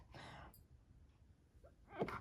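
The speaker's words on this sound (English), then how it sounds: "Oh, I'm going to sneeze." A single sneeze bursts out near the end, close and sharp, after a stretch of quiet room tone with a brief breathy intake earlier.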